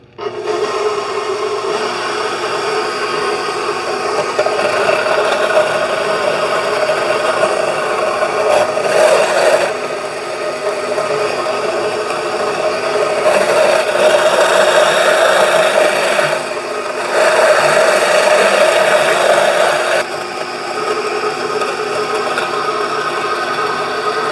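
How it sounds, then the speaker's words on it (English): Dried bread being ground into breadcrumbs in a kitchen grinder, a loud steady motor whir with a sustained mid tone that surges in several bursts and runs without talk. "this might get a little loud, but I'm going to grind this up"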